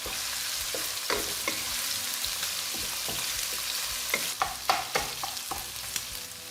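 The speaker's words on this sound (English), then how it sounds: "On medium heat, fry until fragrant. Then add the minced meat." Minced meat fries and sizzles in a wok over medium heat with garlic, a steady close hiss broken by repeated scraping stirs and clacks of the spatula, growing busier toward the end.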